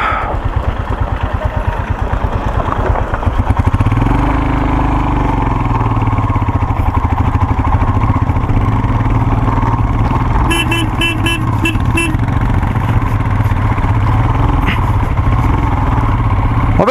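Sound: motorcycle engine straining uphill in first gear

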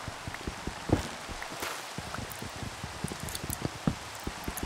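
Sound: rain falling in a block-building video game

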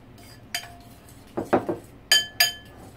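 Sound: plate and dishes clinking while plating braised pork ribs

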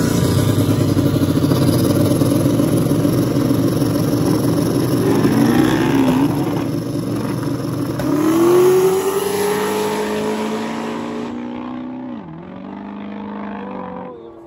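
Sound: drag racing car making a pass down the strip

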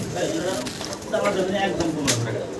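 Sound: pigeons cooing

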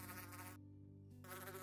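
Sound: bee buzzing in Minecraft video game

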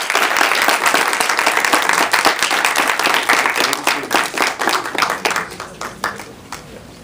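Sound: audience applause at a film festival screening

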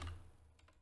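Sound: typing a chat message on a computer keyboard

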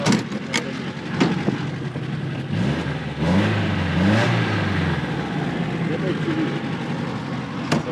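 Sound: VAZ 2107 car engine revving

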